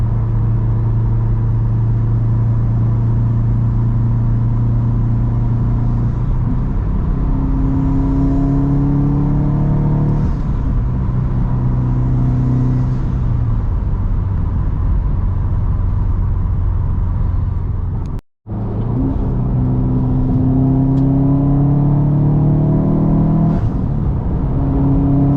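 Subaru WRX STI with new suspension and white line sway bars, its engine droning loudly and steadily through turns, pitch rising and falling with throttle, with one abrupt brief cutout.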